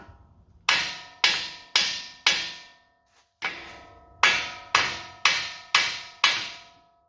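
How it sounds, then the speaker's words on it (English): Hammer strikes the steering knuckle of a Bronco near the tapered spot to pop out the tie rod end: ten loud, ringing metallic blows in an even rhythm, with a short pause midway, close up. "just smack the knuckle around here, around the tapered spot"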